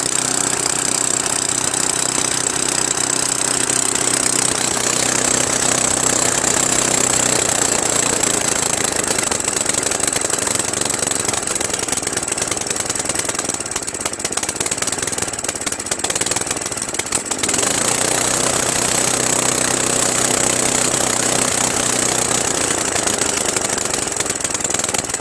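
A Craftsman 9HP Tecumseh snowblower engine runs loud and close, a steady unbroken chug with a brief dip in the middle, with no talking.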